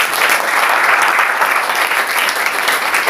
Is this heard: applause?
yes